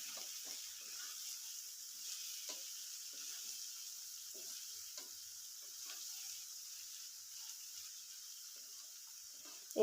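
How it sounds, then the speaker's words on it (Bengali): Cabbage and peas fry in a pan for egg chow mein, giving a steady, fairly quiet sizzle with scattered soft crackles and occasional stirring taps throughout, with no talking. "বাঁধাকপিটা যতক্ষণ না নরম হয়ে আসছে ততক্ষণ ভাজতে হবে।"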